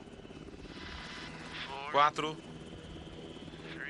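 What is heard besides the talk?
rescue helicopter hovering in position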